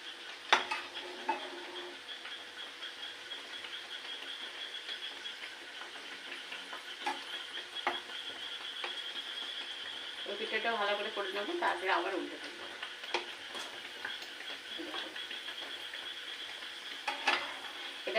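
An egg fries in hot oil in a pan over a gas flame, giving a steady soft sizzle with brief louder crackling bursts in the middle, while a voice talks intermittently.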